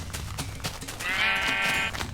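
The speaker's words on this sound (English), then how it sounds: "Got a sheep down here." A sheep bleats once in a Minecraft modpack, a drawn-out wavering cry that rises over steady game background noise and holds for nearly a second.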